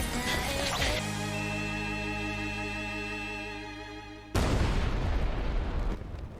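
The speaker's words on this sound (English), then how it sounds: "It was just fireworks." Fireworks boom out with a sudden loud blast in the anime Lycoris Recoil, followed by a dense crackling roar. A steady droning tone runs beforehand.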